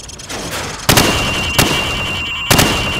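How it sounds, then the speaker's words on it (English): Three sharp, loud rifle reports fired from the hip on a Call of Duty 4 firing range, spaced unevenly about a second apart, each leaving a short ringing tail. "Now shoot at the targets while firing from the hip."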